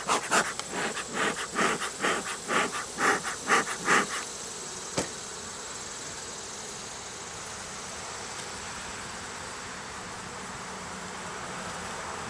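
Honey bees at an open hive drone in a close, pulsing buzz for the first few seconds, followed by a quieter, steady low hum with a single sharp click.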